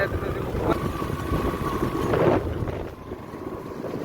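Wind gusting across a lakeside embankment with water on both sides, a rough close rumble buffeting the microphone, rising and falling over a few seconds, with a person speaking underneath.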